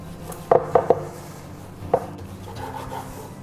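A knife slices through smoked then grilled jalapeño tri tip on a board: several crisp taps in quick succession, a pause, then another cut and soft rubbing strokes, close and alone.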